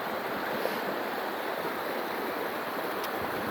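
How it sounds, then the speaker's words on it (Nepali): Hillside stream in Nepal cascading over rocks into a small waterfall, a steady rushing wash of water, moderately loud and continuous, with no voices. "यहाँबाट पानी झर्छ झर्ना, हामी धुलछोडो भन्छौँ त्यसलाई"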